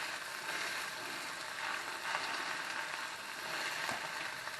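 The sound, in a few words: pork chops searing in a pan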